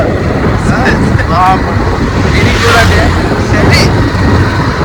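Motorbike ride on a cold night on the way to an Amavasya puja: constant rushing wind buffeting the microphone over a low engine drone, with voices briefly heard over it.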